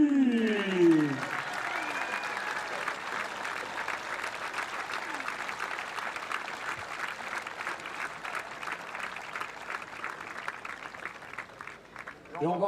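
Spectators at the canoe polo world championships medal ceremony in Saint-Omer applaud the bronze medalists with rhythmic clapping that holds steady for several seconds, while an announcer speaks over the start and end.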